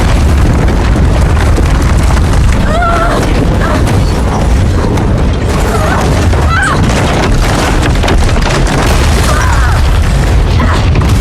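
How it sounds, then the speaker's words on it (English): A huge ion cannon blast explodes, a sustained, loud roaring rumble that fills the space with heavy, dense noise and scattered crackling debris throughout, with no break or quiet moment. "The ion cannon blast leveled the area for several kilometers, but Casca, being a top general, escaped"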